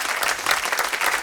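Concert audience applauds during a Catalan singer-songwriter's live show, a short, dense, steady burst of clapping from a crowd with no voices over it.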